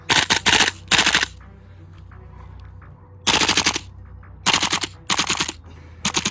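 Tokyo Marui Black Ops Commando gas blowback airsoft rifle firing loud, close bursts of rapid shots, several volleys separated by short pauses with a quiet hiss between them.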